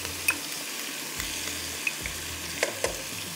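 Masala with turmeric, salt, ginger-garlic paste and red chili powder frying in a pan: a steady close sizzle broken by several scraping stirs and small pops.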